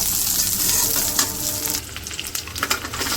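Onion and green chilli fry lightly in hot oil, giving a loud, close, continuous sizzle broken by stirring scrapes and clatters toward the end.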